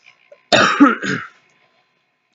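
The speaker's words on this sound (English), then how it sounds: "I'm gonna cough really quick." One short, close cough with a rough throaty catch, isolated in otherwise quiet surroundings.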